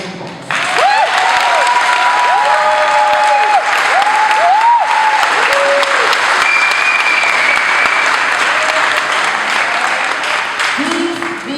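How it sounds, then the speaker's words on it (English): Graduation audience gives the graduates a loud, sustained round of applause, steady dense clapping filling the whole stretch with cheers and voices mixed in. "So please give our grads another round of applause."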